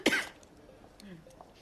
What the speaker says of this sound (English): I've had this pretty bad cough for a few days now